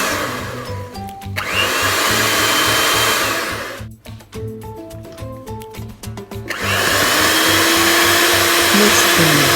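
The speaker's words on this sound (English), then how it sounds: "Mix the brown sugar and eggs well until the color becomes pale." An electric mixer whirs loudly through brown sugar and eggs for a brownie cake, running steadily, then dipping into a short stretch of lighter clinking and rattling before the motor roars back at full speed.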